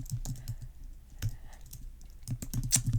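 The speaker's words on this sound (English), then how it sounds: "You can type whatever you want." Typing on a computer keyboard, rapid irregular clacking of keys in short bursts, close and clear, with brief pauses between runs.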